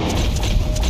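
Fast galloping horse hooves in the video game Red Dead Redemption 2, a dense loud clip-clop rhythm over a rumbling ground texture.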